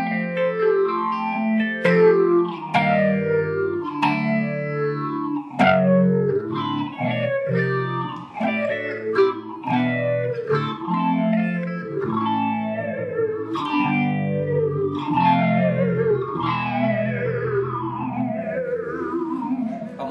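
Guitar notes are picked in quick succession through a BOSS PH-3 phaser pedal, a swirling, warbling effect that gives each note a wavering, hollow character, played continuously and fairly loud.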